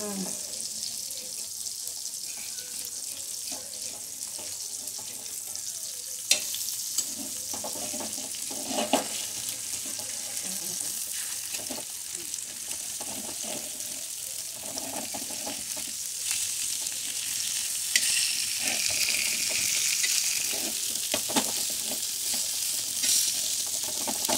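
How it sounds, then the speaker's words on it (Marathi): Fish pieces fry in oil on an iron griddle, a steady close sizzle and crackle running throughout, with occasional clicks and light scraping as the pieces are turned. "लोखंड तव्यावरतीच का तळतात मच्छी"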